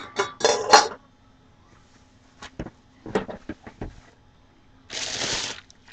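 Rachael Ray cookware being unboxed: welded pans with silicone handles clank and knock together up close, a burst of clattering, scattered light taps, then a rustling scrape of packaging.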